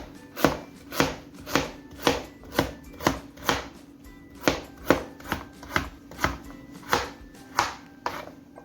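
A knife chops carrot on a cutting board for brown stew chicken, giving a steady series of about fifteen sharp, close thuds at an even rhythm.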